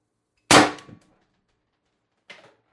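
A TR50 high-pressure air gun with no restrictor fires a 12.7mm ball bearing in one sharp, loud crack with a short ringing tail, followed by a brief, fainter thud about two seconds later.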